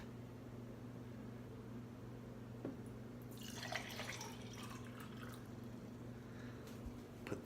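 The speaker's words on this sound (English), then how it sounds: "Let me pour the water into the cup." Water pours briefly with a trickling splash midway through, over a steady low electrical hum; quiet and close, no voices.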